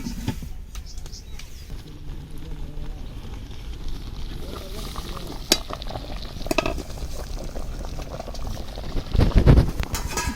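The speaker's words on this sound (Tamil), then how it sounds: "இப்போ பாருங்கள், நல்லா கொதிச்சு வெந்து வந்துட்டு இருக்குது." Chettinad mutton kulambu curry bubbles and simmers in a pot, a steady crackling boil with sharp pops and a clatter near the end, under a voice talking.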